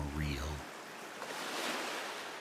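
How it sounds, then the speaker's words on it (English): Ocean waves wash steadily onto a coastal beach in a broad, continuous surf, briefly preceded by a voice at the start. "The sound of the waves grows louder as you descend, more present,"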